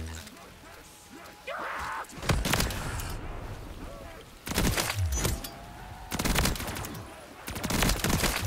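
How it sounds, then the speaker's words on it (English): Repeated booming blasts and bursts of gunfire-like cracks erupt at intervals over a constant background rumble, loud and chaotic. "Explosions."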